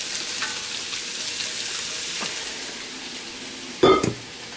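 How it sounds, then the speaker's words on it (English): Vegetables poured into a hot pan for a cilantro lime chicken meal prep, giving a steady close sizzle of frying with a brief louder burst of clatter near the end. "So what I will be doing for the vegetables is simply just pouring them all in."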